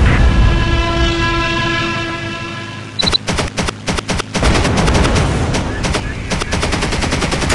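An aircraft machine gun fires in the War Wings video game, in loud rapid bursts of shots after a sustained engine drone from the F4U4 Corsair.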